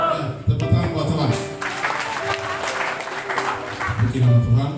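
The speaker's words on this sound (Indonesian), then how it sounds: "Ya, tepuk tangan buat Tuhan." Clapping and cheering from a church congregation in Papua, a steady wash of hands with voices and talk mixed in throughout, swelling again toward the end.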